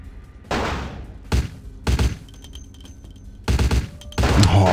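Gunfire in the video game Vampire the Masquerade Bloodlines: several loud, sharp bursts of shots in separate clusters, with heavy thuds and game effects between them.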